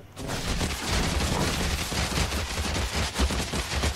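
Rapid bursts of fired shots from the legendary longbow Pharus in Guild Wars 2, a dense, continuous volley of sharp impacts at steady loudness with no talking.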